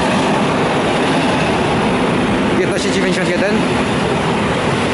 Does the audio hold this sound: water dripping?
no